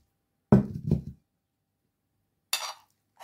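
Fruit salad is tipped into a dish in two short bursts, each a quick clatter of soft pieces and a light knock against the bowl, separated by silence.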